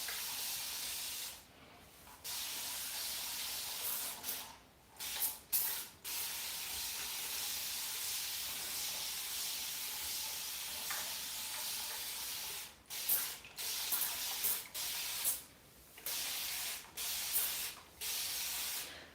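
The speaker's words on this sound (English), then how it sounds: "I think I can get away with just using a spray bottle." A handheld spray bottle mists water onto loose curly, tight wavy hair in a series of short hissing bursts, some single and some in quick pairs, close and crisp with gaps of quiet between them.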